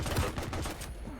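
A shotgun blast in a fast-paced arena shooter duel, a single loud, broad burst of gunfire up close that decays quickly within about a second.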